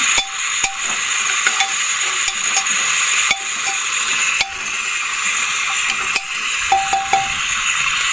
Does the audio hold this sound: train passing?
no